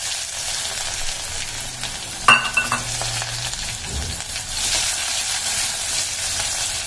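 Chopped onions with mustard seeds and cumin frying in oil in a clay pot make a continuous bright hiss and sizzle, with one sharp utensil clatter partway through.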